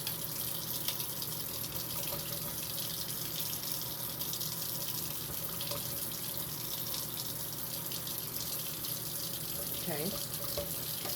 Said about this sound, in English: Take the strainer and we are going to rinse it.